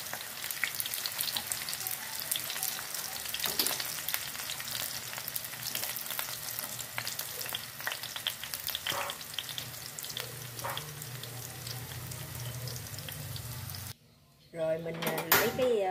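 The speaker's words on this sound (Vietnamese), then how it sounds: "rồi mình chiên cái phần đậu hũ nó vàng" Tofu frying in hot oil in a pan, a loud steady sizzle that continues without a break, with occasional clinks and stirring, drops out briefly near the end and then resumes; a person talks over it.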